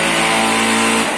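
Steady, loud mechanical drone of a street-cleaning machine running during a town festival, a continuous engine hum with no breaks across the whole stretch and no voices.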